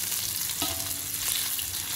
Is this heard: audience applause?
no